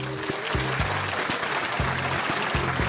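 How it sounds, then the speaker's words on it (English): A crowd cheering and applauding as a sound effect, a dense steady wash of clapping that fills the whole stretch at even loudness, with a low rhythmic musical pulse beneath it. "And the crowd goes wild"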